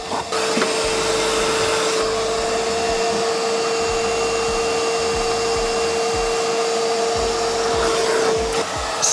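A vacuum cleaner hoovers the interior of a barn find car, a loud steady motor whine with a constant tone running unbroken for the whole stretch, nozzle bumps and scrapes thudding underneath.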